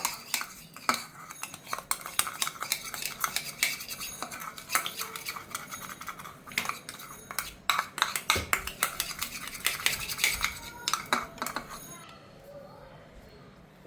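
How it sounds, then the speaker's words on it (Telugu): A spoon scrapes and clinks in a bowl while aloe vera is mixed into coconut fibre powder, with irregular bursts of stirring that trail off near the end, close and fairly loud. "ఇప్పుడు నేను ఇందులోనూ అలోవెరా జల్లేస్తున్నాను అనమాట అలోవెరా జల్లేసి కలపాల"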